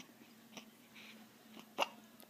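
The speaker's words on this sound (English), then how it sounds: "Oh, now we got hiccups." A seven-day-old newborn baby gives a few soft, quiet hiccups, with one sharper, louder hiccup near the end, set against a faint hum in a calm room.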